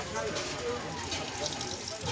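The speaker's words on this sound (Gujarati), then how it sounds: "જો આ ડંકી છે આ પાણી આમાં નીકળે અહીંયા" Water pours from a hand pump at Banbha hill near Surat, a steady continuous gushing splash close by, with voices talking over it.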